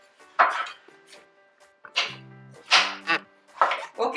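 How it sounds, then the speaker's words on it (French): A knife cuts mushrooms for risotto on a board in four or five separate bursts of quick chopping, spaced apart, with a brief voice murmuring between them. "on va couper les champignons"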